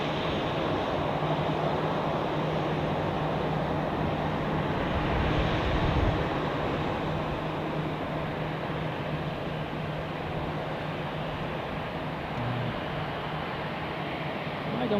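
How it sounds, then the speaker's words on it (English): Swiss Airbus A320 in Star Alliance livery departing Zurich Airport, a steady, distant engine roar with a low continuous hum that holds evenly throughout, no voices over it. "there's another Swiss A320, of course, with Star Alliance livery departing"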